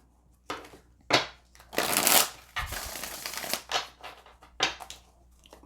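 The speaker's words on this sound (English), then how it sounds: "Let's pull some more oracle cards." Oracle cards being shuffled by hand at close range, a series of quick papery riffles and soft slaps coming in uneven bursts, with no talking.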